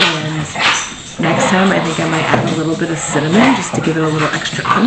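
Dogs barking and yipping in the background of a home kitchen, several sharp barks rising over a person talking throughout.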